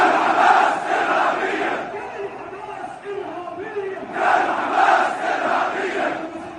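Crowd at a rally in Jordan cheering and chanting, a loud massed roar of voices that swells, dips in the middle and surges again.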